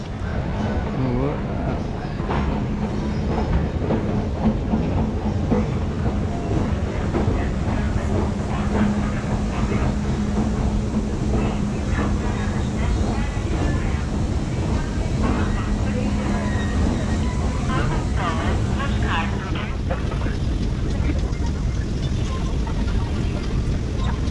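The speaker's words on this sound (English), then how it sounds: "Train." Continuous rumbling rush of a moving train, heard from inside with a steady low hum and rattling.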